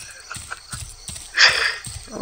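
A horse galloping in the video game GUN, quick rhythmic hoofbeats at a steady pace, fairly close, with a brief louder burst partway through and a voice speaking over it.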